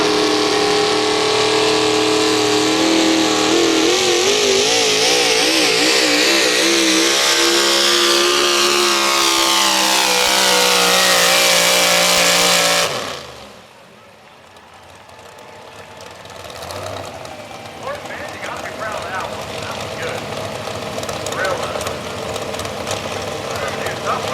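A Ford pulling truck at a truck and tractor pull, Ross Borger's Summertime Blues, roars loud and sustained at high revs, its pitch climbing and wavering, then drops sharply before a quieter engine note builds back up.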